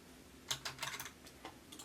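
A computer keyboard is typed on in a quick, light burst of clicking keystrokes, close and fairly quiet, with no speech.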